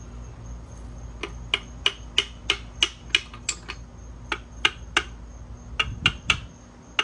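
Light metal taps on a Honda Integra B18 engine block during a teardown, about fifteen sharp, ringing strikes in an uneven rhythm, close by with a low hum behind them.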